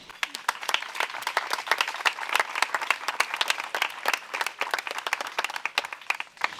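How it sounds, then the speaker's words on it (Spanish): A crowd applauds at the inauguration of a mural dedicated to Concepció Arenal, many hands clapping in a lively, uneven stream of sharp claps at moderate loudness, continuing without a break. "Un fuerte aplauso."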